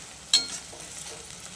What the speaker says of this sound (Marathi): तर छान असा लाल तळला येतो कांदा